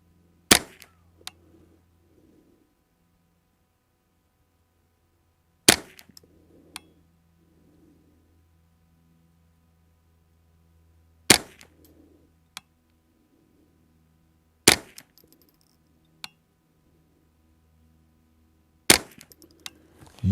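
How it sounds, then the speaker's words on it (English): Sharp rifle shots from a Ruger 10/22 with a carbon fiber wrapped barrel, match bolt and precision receiver, fired outdoors at a target: five single cracks spaced several seconds apart, each followed by a brief faint echo, with quiet in between. "Let's move over to that other target and put another 5 rounds on that target."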